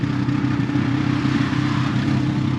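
A tuk-tuk's small engine runs steadily at close range on a windy high road in Bolivia, a continuous rattling, buzzing drone with no talk.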